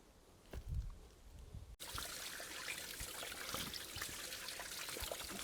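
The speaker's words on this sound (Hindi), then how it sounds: "देखिए झरने का पानी यहाँ चल रहा है" Cold mountain waterfall water runs in a steady trickling flow, close and continuous, with a brief low rumble at the start before the stream noise fills the rest.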